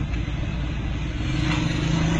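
A vehicle engine revving up close, a loud continuous rumbling drone with rattling clatter that rises slightly in pitch partway through.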